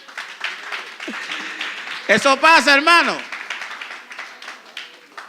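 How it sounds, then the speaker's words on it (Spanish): Church congregation breaking into brief applause for about a second, scattered clapping that mixes with talk and a sung or shouted voice, in a room with people speaking throughout. "da un aplauso al Señor"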